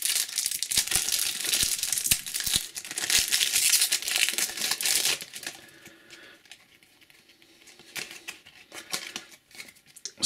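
Adrenalyn XL UEFA Champions League 2014/15 trading card pack wrapper being torn open, a close, loud crinkling and tearing for about five seconds before fading into softer rustles.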